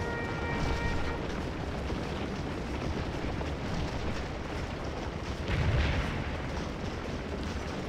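A dense, continuous roar of musket and artillery fire rolls on without a break during a Civil War battle in Scourge of War: Gettysburg. The volleys blur into a steady din with a slightly heavier swell near the end.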